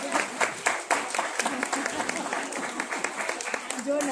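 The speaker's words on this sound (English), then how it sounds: "Please make a big round of applause to Jasnoor." Scattered, uneven clapping from an audience at a Gandhi Jayanti pre-school assembly, moderately close, with voices talking over it throughout.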